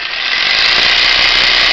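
A 12-volt cordless jigsaw runs in soft-start mode. It gives a steady, loud, high-pitched motor whir that stays even throughout, with a slight ramp at the start.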